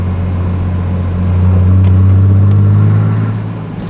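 A loud car engine, running through a new homemade exhaust, hums and swells in a steady rev, rising to a sustained drone and then easing back down, no voices.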